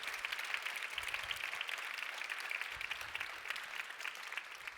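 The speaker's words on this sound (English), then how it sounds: "Can we give them an applause too?" Steady audience applause for youth organization delegates at a youth conference, a dense, even wash of many hands clapping at moderate distance with no break.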